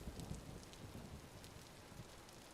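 Steady rainfall in the survival game Vintage Story, a soft continuous hiss of drops pattering on surfaces, faint and even throughout with no voices.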